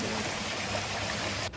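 A mountain stream flows nearby, a continuous broadband rush of water that stays steady and fairly quiet, then cuts off abruptly at the end.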